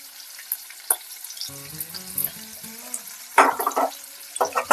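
Garlic and chilli sautéing in a pan for pasta: a soft sizzle broken by intermittent stirring scrapes and clatters, close by, with a short tonal hum in the middle and louder spoon strokes near the end.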